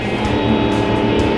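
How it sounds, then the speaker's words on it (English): An off-road pickup's V8 engine is opened up, giving a loud, sustained, throaty roar over a short burst, close and up front with no talking. "When you really open up the V8, it sounds great."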